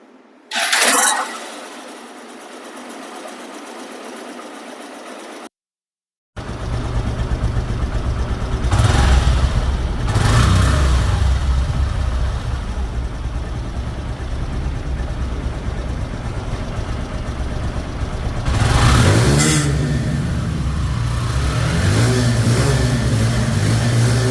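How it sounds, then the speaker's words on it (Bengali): A 2024 Hero Ignitor motorcycle engine cranks briefly, cuts out, then starts and idles steadily near the microphone, with a couple of louder throttle blips over the running engine. "গাড়িটির সাউন্ড শুনলে বুঝতে পারবেন গাড়িটির ইঞ্জিন কতটা শোরুম কন্ডিশন আছে"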